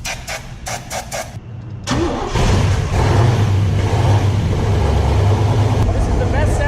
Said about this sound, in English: This is the best sounding 66 Corvette you're ever going to find.